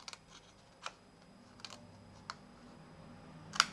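Scissors snipping paper during a scrapbooking craft, a few faint, sparse, crisp clicks and snips spaced through a quiet room, the last one slightly louder.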